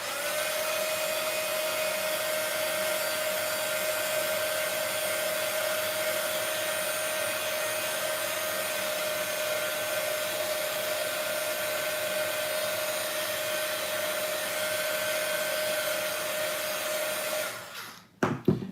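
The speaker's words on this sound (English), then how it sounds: "The reason why I'm drying it is because I want to put mask on it." Steady, loud whirring drone of a dryer drying a freshly painted art journal page, running unbroken and close for most of the clip before cutting off abruptly near the end.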